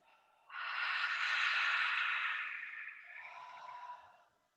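A long, forceful yoga lion-breath exhale, a steady hoarse rush of air like fogging glasses, trails off gradually into a weaker second push of breath.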